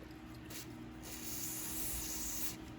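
Lubricant from a WD-40 can hisses out in a continuous close spray, holding steady for several seconds with brief dips near the start.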